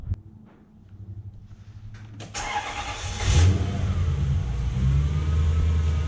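A Lexus LS400 engine cranks and catches after some quiet clicks, then settles into a loud, steady idle close by, with no talking.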